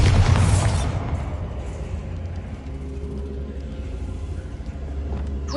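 A Bombarda spell blast in Hogwarts Legacy: a deep booming explosion hits loud at the start, then fades into a sustained low rumble with faint crackling debris.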